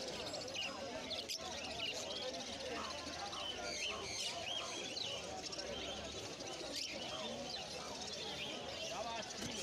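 Caged lovebirds, Fischer's lovebirds, zebra finches and golden finches chirp and call together at a busy Kolkata pet bird market on Galiff Street, a steady layered twittering with someone talking over the birds.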